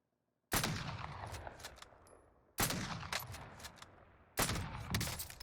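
Three loud sniper rifle shots in the video game Warzone, each a sharp crack with a rolling echo that trails off, spaced about two seconds apart.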